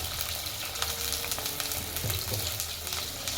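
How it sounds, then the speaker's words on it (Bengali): Pieces of papaya sizzling in hot mustard oil in a pan, a dense, even crackling fry heard up close, steady throughout with small pops and stirring. "এবার আমরা পেঁপেগুলোকে ভেজে নেব।"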